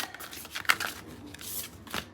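A deck of tarot cards is shuffled up close, giving soft papery riffles and quick flicks in short uneven bursts, with one sharper snap near the start. It is fairly quiet, and no one speaks.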